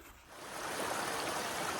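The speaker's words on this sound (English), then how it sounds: "Really beautiful creek right here." A creek along the Appalachian Trail flows steadily, a broad, continuous rush of water that swells slightly after the first moment and holds close and loud with no voices.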